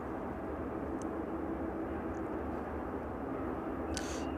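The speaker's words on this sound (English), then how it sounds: "This one departing back out to Athens." A departing airliner climbs out of East Midlands Airport bound for Athens, a steady broad engine roar heard from a distance that holds at an even level throughout.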